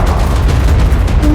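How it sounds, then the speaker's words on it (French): Grenade explosions in the modded video game ARK, a loud, dense continuous rumble of blasts and booms filling the whole short stretch, with no talking. "Ouais, il envoie des grenades."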